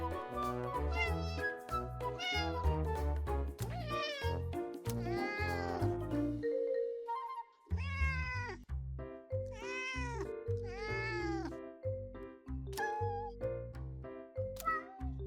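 Cat characters in the video game Cattails: Wildwood Story meow over and over in quick succession. The calls are loud and close, with pitches that bend and a few harsher caterwaul-like cries, and a short pause falls near the middle.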